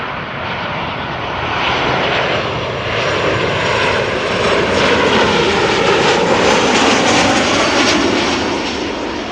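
Boeing 737 arriving from Funchal touching down at Amsterdam Schiphol with a bumpy nose-wheel contact; a loud, steady broadband jet roar that swells toward the middle and holds, with no voices.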